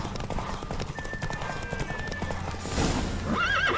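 In the Witcher 3 game, a horse's hooves clip-clop steadily up close and a loud whinny rises near the end, over faint background game ambience.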